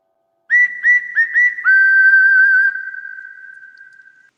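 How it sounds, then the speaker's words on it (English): A whistle sound effect marking a strikeout in a Yankees–Rangers baseball game: several short sharp toots followed by one long sustained tone that fades out, loud and clear with no voices. "Feels so good to hear that whistle early, man."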